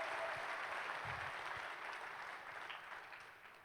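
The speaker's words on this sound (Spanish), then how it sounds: "Aplaudan al Señor." Quiet, distant applause rises from a church congregation during a sermon, a steady wash of clapping that gradually fades toward the end.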